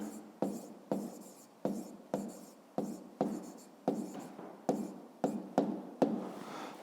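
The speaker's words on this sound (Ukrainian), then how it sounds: "Ну а зараз записуємо відповідь, пишемо відповідь." A pen writes an answer on paper in a math exercise, a series of about a dozen short scratching strokes in a steady rhythm, close and fairly quiet, with no talking.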